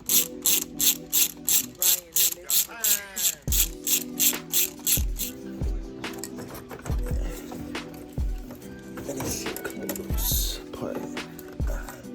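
Ratchet loosening a hose clamp on a Mazdaspeed 3 turbo inlet, a run of rapid loud clicks that then slows into scattered single clicks and metallic knocks, close up under the hood.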